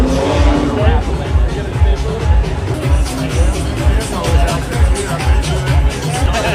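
A Lamborghini Aventador in a gray wrap at a car meet gives off a low, pulsing engine rumble. Steady crowd chatter and nearby talking sit over it throughout.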